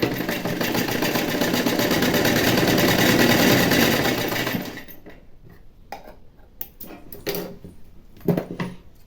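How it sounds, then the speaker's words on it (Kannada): A domestic sewing machine stitches a blouse belt strip in a steady, loud whirring run for about five seconds, then stops, leaving scattered light clicks and fabric handling sounds. "ಕಟ್ ಮಾಡೋಕ್ಕಿಂತ ಮುಂಚೆ ಫಸ್ಟ್ ಇಲ್ಲಿ ಒಂದು ಸ್ಟಿಚ್ ಹಾಕ್ಬಿಡಿ."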